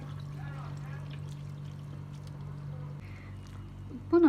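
Chopped onions for lahmacun washed in water, a steady close pour and trickle running throughout, with a brief splash near the end.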